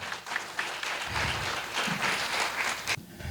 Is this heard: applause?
yes